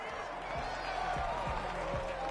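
Stadium crowd noise from an American football video game, with a home crowd roaring to drown out the snap count, forms a steady, dense wash of cheering with faint rhythmic thumps underneath, loud and continuous.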